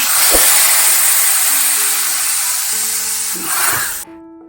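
Hot oil tempering with mustard seeds, turmeric, asafoetida and red chillies is poured into a buttermilk amaranth-leaf curry. It gives a loud, steady sizzling hiss for about four seconds before cutting off abruptly.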